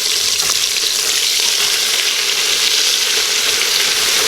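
Chicken fried steak fries in a pan with loud, dense, continuous sizzling and crackling of hot oil, close and steady without pause, with no voices.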